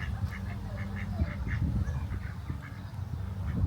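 Ducks on a village stream quack in a lively, overlapping chorus of short repeated calls over a steady outdoor background.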